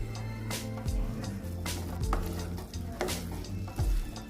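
Bhindi (okra) masala fries in a pan while being stirred, giving a steady sizzle with repeated scraping strokes of the spoon every second or so, close and fairly quiet, no talk.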